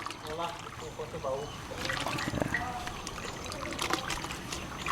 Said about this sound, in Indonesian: Ya, di sini, Pak, untuk larutan ini, Pak. Untuk masukkan air, Pak.